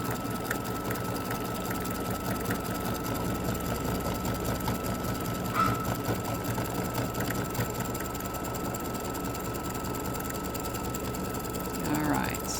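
An embroidery sewing machine stitching a free-standing lace Christmas ornament hums steadily and close, with rapid mechanical ticking running throughout.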